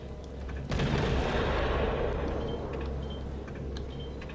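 Main guns of the Isokaze, a Japanese destroyer in World of Warships, fire a loud booming salvo that rolls into a sustained rumbling wash, with no talk over it.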